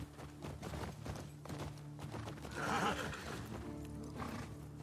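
Horse from The Last of Us Part 2 neighs and whinnies loudly mid-clip, with steady clip-clop of hooves and game ambience running throughout.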